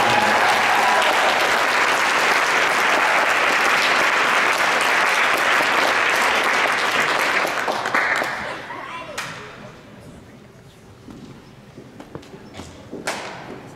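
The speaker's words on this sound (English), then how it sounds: "let's give these senior division first place award winners a great round of applause for their amazing project." A crowd applauds senior division first-place award winners at a science fair awards ceremony, loud and dense clapping for about eight seconds before thinning into scattered claps and fading.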